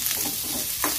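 Onion sizzling and frying in hot oil with whole spices and cumin in a pan while chicken curry is being cooked, a steady dense crackle with a few stirring scrapes, close and alone.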